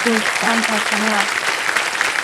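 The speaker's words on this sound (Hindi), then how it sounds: "एक बार तालियां बज जाए, स्वागत है।" A studio audience on the KBC game show claps briefly in welcome, the applause running under a voice at first and then continuing alone.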